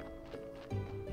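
Donkey hooves clip-clopping in the video game Graveyard Keeper, a short run of steady, soft hoof taps over a low game background.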